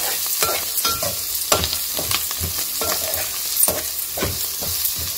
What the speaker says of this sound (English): It's been 1 minute, so let's add our garlic. Mix it all once.